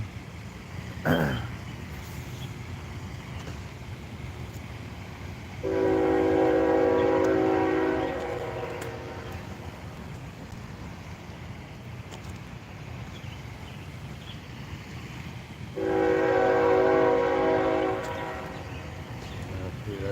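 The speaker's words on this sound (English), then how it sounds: "Train." A train rumbles steadily in the distance while its horn sounds in two long, loud blasts several seconds apart, with a brief clunk near the start.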